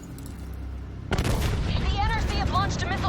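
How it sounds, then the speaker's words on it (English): Missile barrage in the Black Ops 3 video game: after a brief lull, a sudden loud burst of explosions and rumbling impacts rolls on for about two seconds, with game effects layered on top. "Launched a missile barrage."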